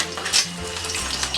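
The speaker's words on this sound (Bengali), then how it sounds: "ডিমগুলো আমি হালকা করে ভেজে নেব।" Eggs fry lightly in three tablespoons of hot white oil, giving a close, steady sizzle with a brief louder spatter near the start and faint low clatter under it.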